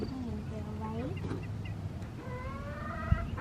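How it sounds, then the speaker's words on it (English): Backyard hens and young chicks clucking and calling close by, a few rising and falling squawks over a low background rumble with a brief thump near the end. "These are our chickens."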